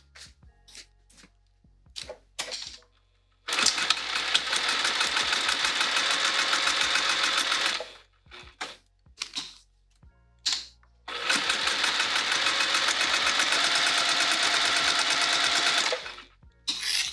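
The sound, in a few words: sewing machine stitching fabric wallet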